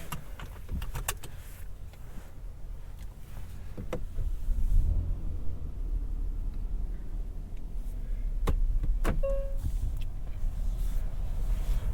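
2022 Hyundai Palisade interior with the engine idling and the climate fan kicking up, a low steady rumble and rising airflow hiss, punctuated by a few sharp clicks and knocks early on and later.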